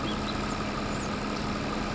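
A tractor with a mower attached idles in Farming Simulator 22, giving a steady, continuous engine hum with a faint tonal drone. No breaks or revving, and no talk over it.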